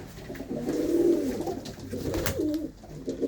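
A pigeon hen with white markings coos nearby, giving soft, low, throaty warbling calls in a few rolling phrases, alone and without talk over them.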